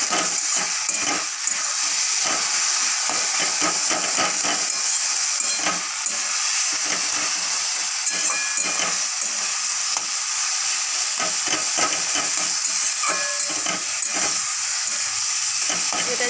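Eggplant being stirred in a frying pan while making begun bhorta, with a steady sizzling hiss and repeated scraping stir strokes throughout, close and loud, with no talking.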